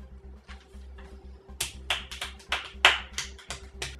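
A handful of sharp, uneven claps ring out over a low, steady hum, close and fairly loud.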